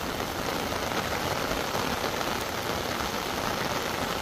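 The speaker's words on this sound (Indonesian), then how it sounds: "Hujan dicampuri angin bos ya." Heavy rain driven by wind falls on a hillside construction site with ground piles, a steady, dense broadband roar with no breaks, loud and close throughout.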